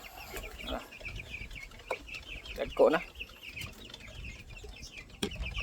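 Hubbard chickens cluck in short bursts around the yard, with one louder squawk, while a person speaks briefly nearby.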